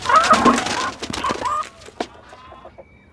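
Domestic chickens cluck in a short burst of close, loud calls that tail off into quieter, scattered clucks.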